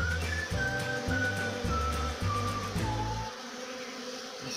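Bees of several kinds buzzing around the flowers of a jerivá palm, a steady droning hum with layered wingbeat tones that swell and shift as insects move close to the microphone, with no talking.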